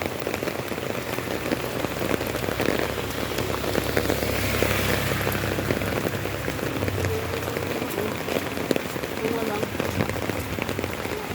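Heavy rain pours steadily on a hard surface, a dense, constant hiss with scattered splashes throughout.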